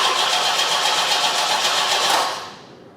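Engine of a 1973 Opel Ascona cranking over after years of sitting abandoned, a steady, loud rhythmic churning that carries on without a catch, then fades out near the end.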